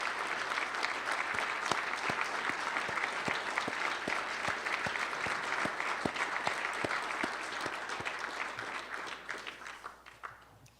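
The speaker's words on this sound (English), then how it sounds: "I think we all owe them a round of applause." Sustained applause from a luncheon audience honoring a group of moms, a broad wash of many clapping hands with distinct individual claps standing out, steady for about ten seconds before tapering off.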